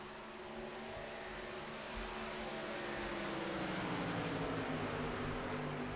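Racing truck engines in a video game drone steadily at a moderate distance, several overlapping tonal whines gliding slowly in pitch as the pack circuits the track, continuous with no talk.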